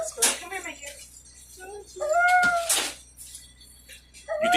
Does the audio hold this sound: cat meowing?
yes